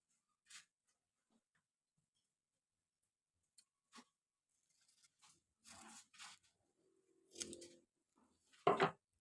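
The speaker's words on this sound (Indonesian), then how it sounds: "Kemudian kan ada lebih sedikit, itu bisa digunting." Scissors trimming the excess banana-leaf wrapping of a lemper, giving a few scattered, quiet snips and crisp crunchy cuts separated by silences, louder toward the end.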